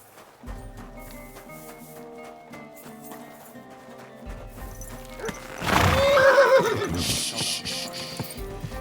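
A horse whinnies loudly over steady hoofbeats and game music in Kingdom Come: Deliverance II, the neigh rising then trailing off.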